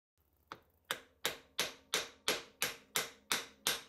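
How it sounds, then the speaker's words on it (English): Small hammer tapping a brass bar held against a steam locomotive piston: about ten crisp metallic taps in an even, steady rhythm, close and clear with no talking. "Lots of very small taps with a hammer against a piece of brass bar, which in turn is against the piston."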